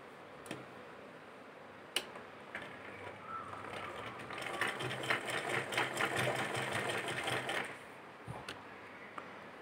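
A sewing machine stitches golden lace onto a garment neckline, a fast steady mechanical whir that builds and runs continuously for several seconds at close range, with a few sharp clicks before it starts.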